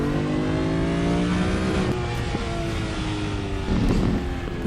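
Porsche straight-six engine in the racing game RaceRoom, a steady loud drone with shifting harmonic pitch as revs change, running continuously near and alone with no talk.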